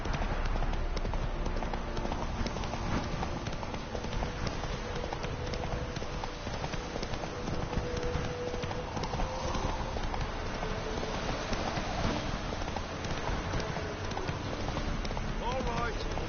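Roach, a horse in The Witcher 3, gallops with a continuous rapid clatter of hooves under wind and game ambience while someone speaks over it.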